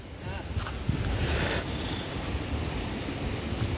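Strong wind gusting on a hill trek at Thoppaiyasamy near Dindigul, a loud broadband roar buffeting the microphone steadily throughout the short stretch.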